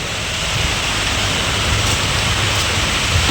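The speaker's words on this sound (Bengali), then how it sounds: "যে বৃষ্টি পড়ছে" Heavy rain pouring steadily onto surfaces outside a home, a loud, dense, unbroken hiss with no voices.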